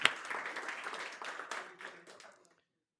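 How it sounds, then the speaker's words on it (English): A meetup audience gives a warm round of applause to welcome the speakers, a dense wash of clapping that fades out after about two and a half seconds. "please join me in welcoming our speakers with a warm round of"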